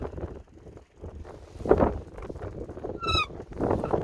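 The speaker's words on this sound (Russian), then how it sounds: "Это до такой степени ветер сильный." Strong wind on the Volga river buffets the microphone aboard a small fishing boat in uneven roaring gusts, with a short high honking cry near the end.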